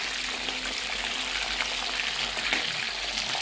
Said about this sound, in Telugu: ఇవి మంచి కలర్ వచ్చేంత వరకు డీప్ ఫ్రై చేద్దామండి